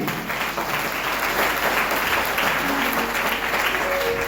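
Sustained applause from a church congregation, dense and steady clapping throughout, fairly loud and continuous.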